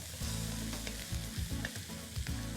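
Garlic and dried thyme being stirred in a hot pan: a steady close sizzle with repeated scraping strokes of a spoon against the pan, no talking.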